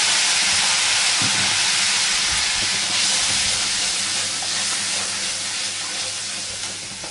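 Water poured into a hot pan of cumin masala for a Bengali pabda fish jhol with brinjal sends up a loud, steady steaming hiss that holds for several seconds and fades slightly at the end.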